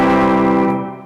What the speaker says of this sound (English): When you have an electric guitar and it sounds clean